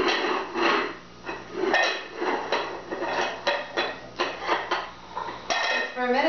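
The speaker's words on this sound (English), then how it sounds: "she really likes playing with dishes" A young child playing with dishes, rapid clattering and clinking of plates, pots and cutlery in quick irregular bursts, loud and close, with faint voices in the background.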